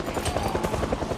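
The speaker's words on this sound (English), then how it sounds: "The second I heard the chopper, I should have hopped in the car and bounced." A helicopter in the zombie survival game Project Zomboid, rotor chop thudding in a rapid regular pulse at moderate, steady loudness, no voices over it.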